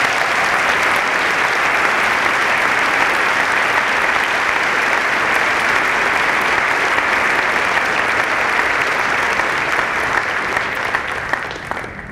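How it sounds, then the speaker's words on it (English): A graduating high school class and crowd at a commencement ceremony applaud loudly and continuously, a thick sustained roar of clapping that eases slightly at the end. "Class of 2015, please give yourselves a round of applause."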